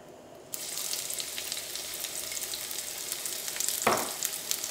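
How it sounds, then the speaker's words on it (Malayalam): Onion, ginger and garlic drop into hot oil and burst into a loud, close sizzle that keeps crackling steadily, with a brief stirring scrape near the end. "ഈ ചൂടായ ഓയിലിലേക്ക് സവോളയും ഇഞ്ചിയും വെളുത്തുള്ളിയും ചേർക്കാം."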